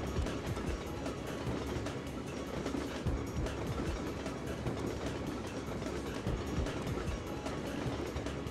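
A moving train rumbles in the video game Syphon Filter 2, a dense continuous roar with rolling low clatter that holds steady and loud throughout, with no talk over it.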